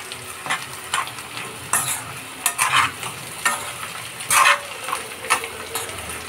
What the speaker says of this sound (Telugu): సో ఇంకా ఫ్రై కావాలి మంచిగా.